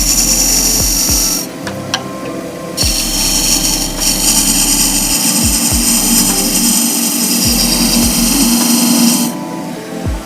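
Wood lathe turning a dovetail on a sacrificial glue block, a steady rasping, scraping cut with repeated low thumps as the tool meets the spinning wood, loud and close, with a brief pause in the high scraping partway through.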